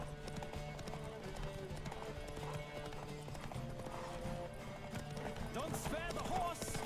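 Galloping horse hooves in The Witcher 3 make a steady rhythmic clip-clop throughout, fairly quiet under game music. A horse whinnies near the end.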